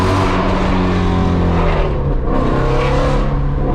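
A very loud Ford Mustang GT350 exhaust with catless midpipes roars at high revs, harsh and raspy, with the pitch dipping briefly before climbing again.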